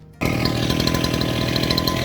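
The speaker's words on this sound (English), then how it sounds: "I've just borrowed a fellow club member's saw. I've been sawing away at it so that I can extract it properly" A borrowed club member's saw cuts into a cubic fluorite specimen, starting abruptly after a brief quiet moment and then running as a loud, constant grinding whine with gritty texture.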